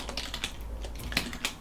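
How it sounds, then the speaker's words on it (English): Password keystrokes on a computer keyboard during a Linux install, a quick run of light clicking taps with a few sharper accented strokes, close and clear, with no talking. "So you type in some passwords"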